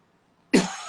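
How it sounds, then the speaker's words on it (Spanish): A single sharp cough from a man in a sit-down interview bursts out close and loud after near silence, then trails into a short rough tail. "tengo un poquito de tos"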